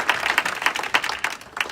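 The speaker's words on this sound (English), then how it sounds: "let's give them a round of applause for doing that" Scattered audience applause at a community immigration forum in Hartford County, a thin run of individual claps with uneven rhythm, moderately close and fairly sparse.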